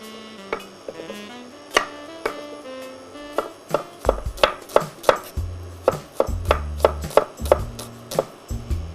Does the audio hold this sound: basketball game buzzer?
no